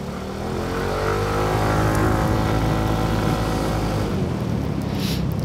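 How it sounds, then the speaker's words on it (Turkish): A small-displacement motorcycle engine rises as it passes close by, a loud, steady drone with a shifting pitch that fills the whole moment with no talking over it. "Bu da motor, o da motor kardeşim."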